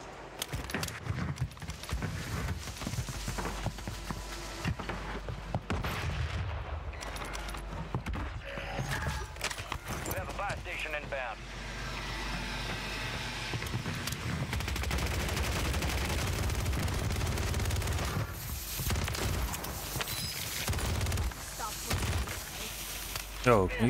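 Gunfire in the video game Warzone 3 rattles in repeated bursts and single shots, with a player talking over the action and a busy game mix throughout.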